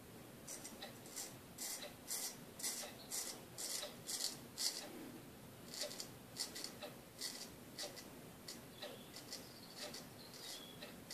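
A straight razor scrapes across skin in short repeated strokes, soft rasping passes with small pauses between them, close and quiet with no speech.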